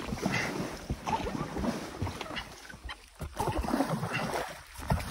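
A strong, violent water current around an island rushes and churns loudly and close, mixed with wind buffeting the microphone and faint voices in the background.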